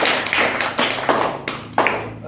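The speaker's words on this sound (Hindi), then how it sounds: "ताली बजाइए।" A group of children in a classroom clap together in a few short, distinct rhythmic bursts of hand claps, close and fairly loud, with brief pauses between each set.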